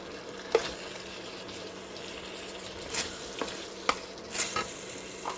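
Cut tofu goes into a sizzling wok for mapo tofu, a low steady frying hiss broken by a few clattering stirs and scrapes of the utensil, close up and without talking.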